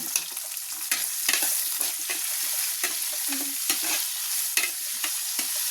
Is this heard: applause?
no